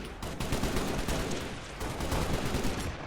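Shotgun firing again in a Halo mod game: a sustained barrage of loud, dense gunfire blasts with rumbling echo, continuous and close throughout.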